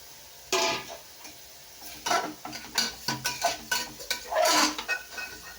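A spoon stirs rice and sautéed onions in a metal cooking pot, giving a series of irregular scraping and clinking strokes, close and fairly loud, with quiet pauses between bursts.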